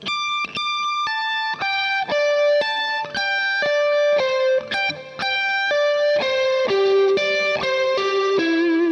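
An electric guitar plays a quick pentatonic run of picked notes with effects, descending stepwise in short repeating patterns, each group starting on a doubled note.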